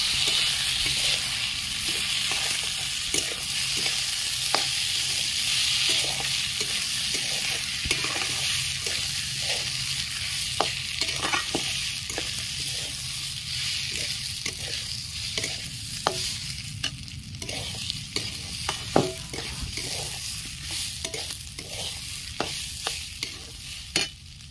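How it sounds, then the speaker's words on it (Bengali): Ghee-coated Gobindobhog rice stirred in a hot pan for Basanti pulao, a steady sizzle broken by frequent scraping clicks of the spoon, close and continuous with no talk. "ঘি দিয়ে মাখা গোবিন্দভোগের চাল দিয়ে দিচ্ছি। ভালো করে একটু নেড়ে চেড়ে নেব।"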